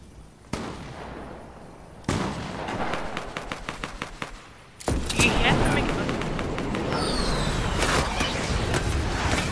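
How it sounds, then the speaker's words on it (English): Fortnite Chapter 2 Season 2 rocket launcher fires in loud, sharp bursts, with a rapid run of cracking blasts and a dense rumbling roar after, under talk. "The rocket launcher."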